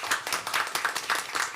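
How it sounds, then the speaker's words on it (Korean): An audience at a Korean industry and workforce policy forum claps together in brisk, even applause, a short burst heard close and alone. "세 분의 최종 토론자 분께 여러분 박수 한번 같이 보내주실까요?"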